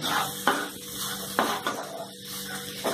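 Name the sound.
spices with garlic being stir-fried in a pan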